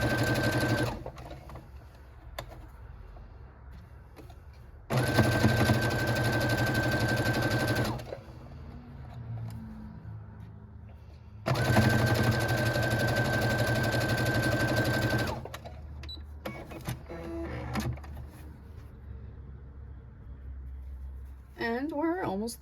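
A sewing machine stitching Christmas quilt strips with a quarter-inch seam runs in two steady bursts of several seconds each, close and clear, separated by quieter pauses with faint handling sounds.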